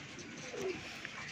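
A pigeon of the umbrella-crested breed gives a brief soft coo, faint and low against quiet background noise.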